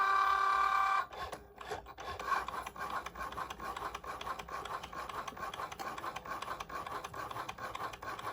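A Cricut Joy cutting machine cuts sticker strips, giving a steady, faint mechanical whir and scrape with small rhythmic ticks as the blade carriage moves, running continuously and close by.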